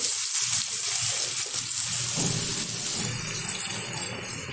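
Onion and turmeric powder frying in lightly heated oil in a wok for alur chokha, a steady close broadband sizzle and hiss that runs unbroken and fairly loud throughout.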